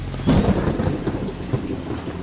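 Thunder rumbles low and heavy through a steady downpour of rain, a loud close roll that swells early and lingers under the continuous hiss of falling water.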